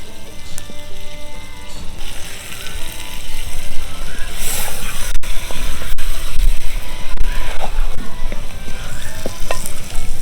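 Marinated country chicken sizzles and fries in a clay pot, a loud, steady crackle with occasional stirring scrapes, close up and without talk.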